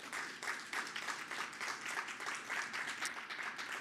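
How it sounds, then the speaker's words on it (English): An audience at a university presentation breaks into applause, a steady, moderately quiet mass of many hands clapping that holds for several seconds. "Yeah, that one deserves a clap too."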